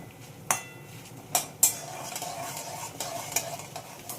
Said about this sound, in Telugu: చక్కగా బంగారు రంగు వచ్చేటంత వరకు వేయించుకోండి